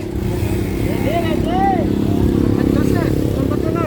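Racing motorcycles at a drag race event in Batangas, their engines droning loudly and continuously with rising and falling revs, heard under an announcer talking over a loudspeaker throughout.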